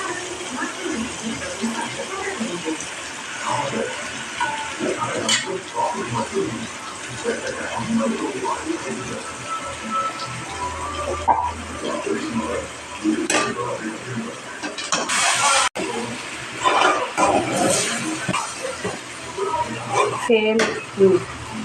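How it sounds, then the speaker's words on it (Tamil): Semiya (vermicelli) is stirred with onion and tomato in a pan, a spoon scraping and clinking against the metal in uneven bursts, with a faint sizzle underneath and occasional sharper knocks of the utensil. "சேமியாவை போட்டு நல்லா கலரி விட்டுக்கோங்க"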